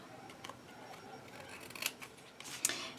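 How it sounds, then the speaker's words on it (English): Scissors trimming paper for a layered handmade card, a few soft snips and crisp cuts rising toward the end, close and quiet with no talk. "And then we'll just trim this off."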